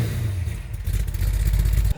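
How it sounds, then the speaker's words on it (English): A 1955 Chevrolet Bel Air with a big block 502 engine, Holley carb and turbo 400 gearbox rumbles and revs close by, a deep loud burble that surges and then cuts off abruptly near the end. "it's a big block 502 engine"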